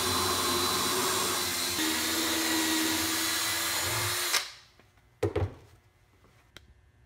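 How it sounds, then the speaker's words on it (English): A power drill with a 5/16-inch cement bit grinds steadily into hard material, drilling a pilot hole for a rocket motor, for several seconds, then stops abruptly, followed by a few brief clunks and handling noises. "we're just going to use a 5/16 cement bit and drill a pilot hole"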